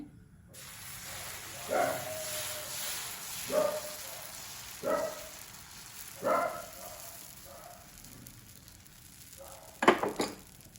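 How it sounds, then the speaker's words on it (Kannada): Moong dal dosa batter (pesarattu) is spread across a hot tawa: a run of quiet, evenly spaced swishing, sizzling strokes, then a sharper metallic clatter near the end, all faint and close. "ಈಗ ತವಾ ಕೂಡ ಚೆನ್ನಾಗಿ ಕಾದಿದೆ. ಈಗ ಇದರ ಮೇಲೆ ನಾನು ದೋಸೆಯನ್ನು ಹಾಕ್ಕೊಳ್ತೇನೆ."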